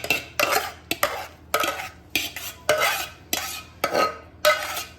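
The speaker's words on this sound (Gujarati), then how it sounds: "એક કાનાવાળી ચાળણીમાં આપણે બધા ભાતને કાઢી લઈશું." Cooked rice for masoor pulao is scooped into a sieve with a handle, giving seven or eight sharp, rhythmic scraping clatters of a utensil against metal cookware, close and without talk.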